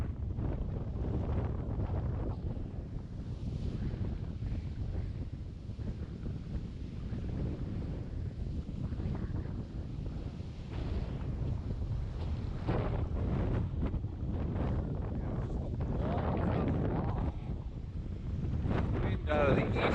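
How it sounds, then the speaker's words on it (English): Strong east wind buffets the microphone on a Long Island surf-fishing beach during Hurricane Erin swells, a loud, continuous rumbling roar with the surf blended in underneath. "Wind out of the east is coming in"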